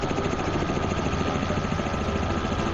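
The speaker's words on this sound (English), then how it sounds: "I've been enjoying flying around them at low level with the helicopter." Helicopter flying at low level in Microsoft Flight Simulator 2024, a steady, loud rotor and engine drone that stays continuous and even throughout, with no talking.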